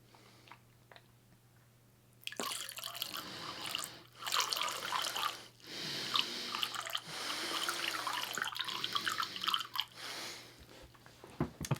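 Water sprayed and spat steadily from the mouth during circular breathing practice for didgeridoo, a wet, hissing stream with gurgles and drips, starting after a quiet lead-in and continuing with brief breaks, close and fairly loud.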